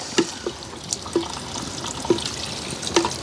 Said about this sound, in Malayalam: ഇനി ആവശ്യത്തിന് എനിക്ക് വെള്ളം ഒഴിച്ച് ഇത് വേവാൻ ആവശ്യമായിട്ടുള്ള വെള്ളം നമ്മൾ ഒഴിക്കും